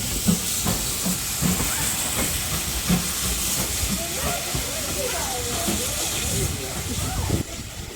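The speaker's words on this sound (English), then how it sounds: "4555 Warrior on the Paignton Dartmouth Steam Railway, Paignton Queen's Park Station, moving to the other end of the train" Steam locomotive GWR 4555 Warrior shunts at Paignton Queen's Park station on the Paignton and Dartmouth Steam Railway, a steady loud hiss of steam with soft rhythmic chuffs and clanks throughout, and voices murmuring nearby.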